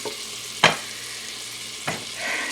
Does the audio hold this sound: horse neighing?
no